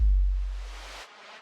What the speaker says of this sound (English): Noise, we're cutting the highs and the lows, and just kind of getting this little mid range.